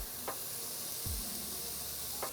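Steaks cooking to medium well sizzle in a pan for a high-protein breakfast, a steady close hiss with a few soft spits and no talking.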